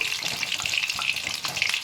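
Chicken pakoras flavoured with mint, coriander, green chilli and lemon juice crackle and sizzle in hot oil, a close, continuous frying hiss with small bursts and stirring clicks.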